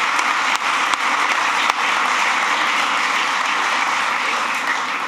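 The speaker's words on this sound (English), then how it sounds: "so let's really give them a round of applause" A crowd applauds steadily at the groundbreaking ceremony for the new LaGuardia Airport, a dense wash of clapping that holds at an even level throughout.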